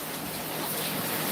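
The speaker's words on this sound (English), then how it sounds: "sorry if you're hearing any other sound, it's the sound of rain." Steady rain falls outside, a dense even hiss of drops filling the short stretch on its own with no talk over it.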